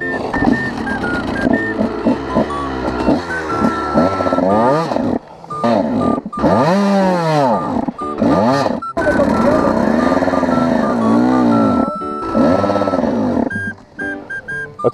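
Motocross bike engine revving hard as the throttle opens, rising and falling whines repeated over fifteen seconds, close and loud, with voices talking over it.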